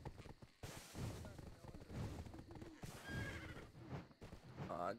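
A horse in the video game Black Desert Online whinnies and snorts amid clopping hooves and other game effects, while someone talks over it.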